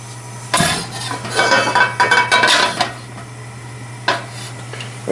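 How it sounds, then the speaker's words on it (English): Cumin seeds dry roasting in a pan over medium heat for tarka dal, with a spoon or spatula scraping and clinking against the metal in bursts, a faint steady hum underneath and brief pauses between stirs. "And dry roast the cumin seeds"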